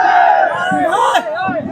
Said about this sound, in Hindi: पूरा भीड़ का जन सैलाब है आज